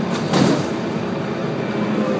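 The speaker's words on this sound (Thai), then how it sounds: "นี่คือรถรางที่แล่นมา" A tram rolls past on a Brussels street, a steady broad rumble of wheels on rails with a brief hissing swell near the start.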